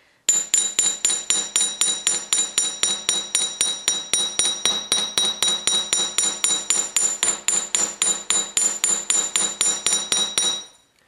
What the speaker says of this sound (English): So we're going to use our chasing hammer, and first we're going to flatten with this side